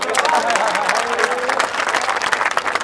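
A crowd at a street play about corruption claps briefly after a speech, with loud, dense applause mixed with voices and crowd noise.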